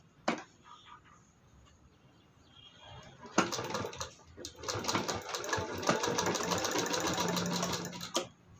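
A sewing machine stitches a long-sleeved blouse at home, starting with a short burst and then running in a steady, rapid whir for several seconds at close range, with faint background sounds between.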